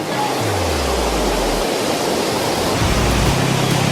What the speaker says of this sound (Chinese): 在后门这边可以听到这个护城河的水流声